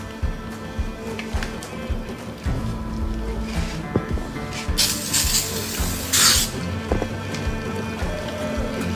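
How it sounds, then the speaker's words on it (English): Cooking spray hisses onto a raw pork shoulder before it goes into the smoker, in two close, loud aerosol bursts, each lasting about a second, over a background of kitchen noise. "Cooking spray."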